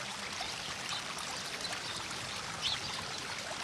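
Melting snow runs downhill as a stream, giving a steady, close rushing and trickling with faint splashes throughout.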